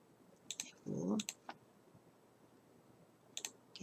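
Sharp computer mouse clicks in a quiet room: a pair early on, a couple more around the middle and a final cluster near the end, with a short low murmur of voice between them.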